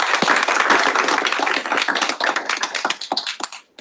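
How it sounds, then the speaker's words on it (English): An audience applauds at a Senate open forum, a burst of close, crisp clapping that thins and fades out over a few seconds. "Please give her a big round of applause, everybody."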